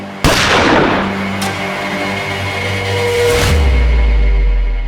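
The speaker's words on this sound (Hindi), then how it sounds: "किसके कहने पर गोली चलाई थी?" A single loud gunshot rings out in a crime drama scene, a sharp crack followed by a long echoing decay, then fainter thuds and a low rumble swelling at the end.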